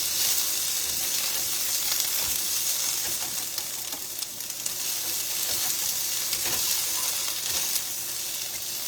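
Cut vegetables cook in a skillet with a loud, continuous close-up sizzle and hiss that holds steady throughout, with faint stirring and no talk.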